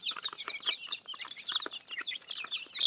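Baby chickens peep continuously while feeding, a dense chorus of high, rapid chirps close by with no voices.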